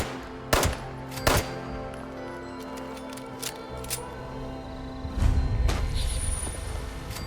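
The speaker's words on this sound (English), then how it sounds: "Somebody's shooting at me." Gunfire in Fallout 76, a few sharp loud shots early on followed by fainter scattered pops, then a rumbling burst of activity toward the end.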